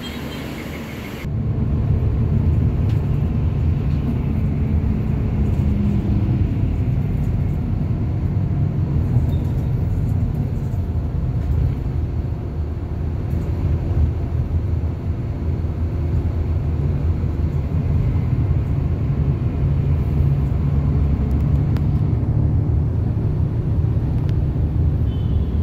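A diesel bus idles steadily at a fuel station while it is refuelled, a constant low rumble that stays close and loud throughout with no break.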